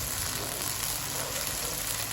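Tomatoes with ginger and garlic frying over a low flame in a pan, a soft continuous sizzle with a faint crackling hiss, close by and steady, with no voices.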